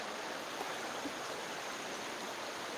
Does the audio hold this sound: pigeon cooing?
no